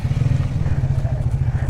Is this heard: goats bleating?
no